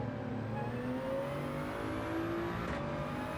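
Toyota Supra race car engine at Red Bull Ring in a racing video game, a steady droning engine note with gradual pitch shifts as it holds revs, moderately loud and continuous, with no talking.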